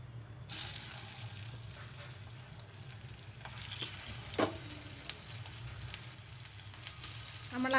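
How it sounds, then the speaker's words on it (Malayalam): Masala-coated raw banana pieces fry in a small amount of oil with a continuous close sizzle, occasional light clinks and crackles, and no talking. "നമ്മൾ ഈ മസാല പുരട്ടി വെച്ചിരിക്കുന്ന കായ അതിലേക്ക് ഇട്ട് നമുക്കൊന്ന് വറുത്ത് കോരിയെടുക്കാം."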